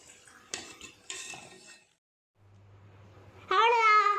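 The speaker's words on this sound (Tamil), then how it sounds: "இப்போ நம்ம பிளேட்டில் போட்டுக்கலாம்." Peas cutlets being set onto a plate: two sharp clinks of utensil against dish, a quiet pause with a low hum, then a voice speaking loudly.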